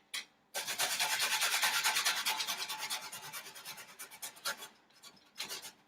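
Food is scraped off a kitchen grater in long, close, rough rasping strokes, a steady rub that breaks into shorter scrapes toward the end, with no voices.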